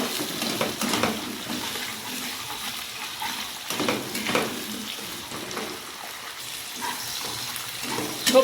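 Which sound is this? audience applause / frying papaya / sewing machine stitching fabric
frying papaya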